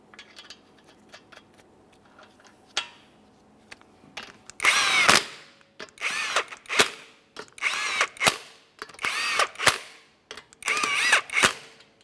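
Power tool spins lug nuts onto a Subaru Outback front wheel in a series of short, loud bursts with brief pauses between, close up and without talk.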